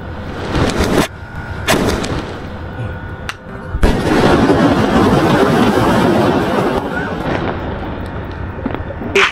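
Diwali sky shot firecrackers fire and burst in a series of sharp, loud cracks and booms, followed by a long crackling roar of bursts that lasts several seconds, with no talking.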